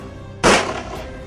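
A single loud, sharp gunshot blast with a brief rumbling decay rings out in a Tamil short film scene, close and alone.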